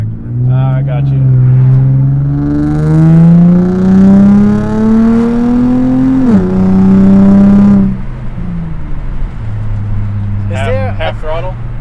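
An Infiniti G35 sedan fitted with a Z1 Touring exhaust accelerates with a rising, buzzy engine drone that climbs steadily for several seconds, dips briefly at a shift, then fades. Voices talk inside the car near the end.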